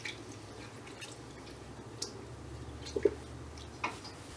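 Fabric stirred slowly in a pot of purple dead nettle dye water, giving faint, soft liquid sloshes with a few small drips and squishes, quiet and close, with no talking.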